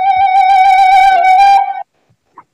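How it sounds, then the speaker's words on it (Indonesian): Bamboo suling flute plays a sustained, breathy note with slight ornamentation, clear and close, then cuts off into near silence with a faint soft tap. "ini suara serulingnya sangat indah"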